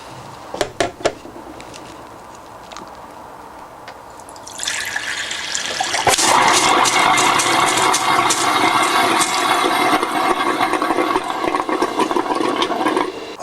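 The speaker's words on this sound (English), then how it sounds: "So let's drain our first tap." A caravan tap being drained with a Floe system starts with a few sharp pops, then air and water begin hissing and spitting out. The gush grows louder and holds as a steady rushing, sputtering spray.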